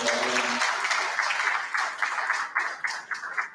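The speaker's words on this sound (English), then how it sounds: "let's put our hands together again for" A conference audience breaks into applause for a speaker, many hands clapping steadily and then thinning into scattered, uneven claps, with a brief voice at the very start.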